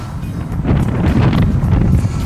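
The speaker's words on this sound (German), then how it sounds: "Hier oben ist ein bisschen windig." Strong gusty wind on a rooftop in Lisbon buffets the microphone in a steady low roar, broken up by fluctuating rumbles.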